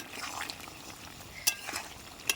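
A pan of fish curry simmers with a faint hiss as a ground cumin and chili paste goes in, joined by a few sharp utensil clicks against the pan, quiet and near, without talk.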